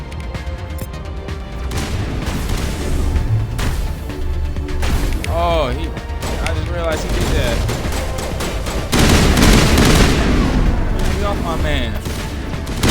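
Gunfire in Mass Effect crackles in dense, rapid bursts with a heavier barrage near the end, while people talk over it.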